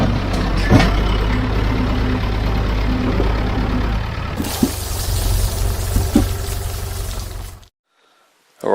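A David Brown tractor engine runs steadily up close, a loud continuous low rumble with a few sharp knocks partway through, then it cuts off abruptly near the end, leaving silence.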